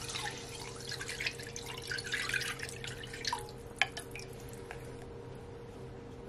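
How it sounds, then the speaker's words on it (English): Sauce is poured into a stir-fry pan of chicken and vegetables. The liquid splashes softly and faintly at first, then a few scattered drips follow under a quiet background. "I'm gonna add my sauce"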